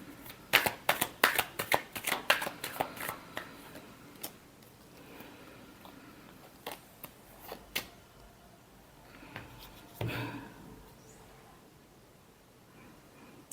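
A deck of tarot cards shuffled by hand in a quiet room, with rapid riffling bursts in the first few seconds, then sparser soft flicks and a final shuffle.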